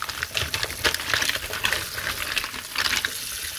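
Cold water from a kitchen tap gushes steadily over a batch of blanched mussels, a continuous splashing hiss with slight shifts as the shells are stirred beneath the stream.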